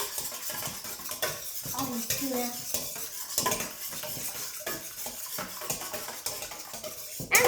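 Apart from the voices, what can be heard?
whisking eggs in a bowl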